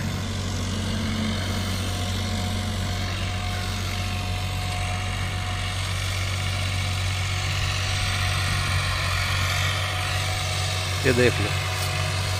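An old tractor engine idles steadily with a deep, even drone close by, holding a constant low hum throughout while someone talks over it.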